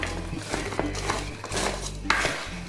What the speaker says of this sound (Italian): inizio a mescolare un pochino